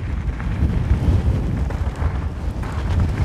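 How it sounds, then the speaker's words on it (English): Strong crosswind gusting to about 40 mph near a hilltop above Fort William buffets the microphone with a close, continuous low roar that swells and dips throughout, with no voices. "the wind speed has gone up"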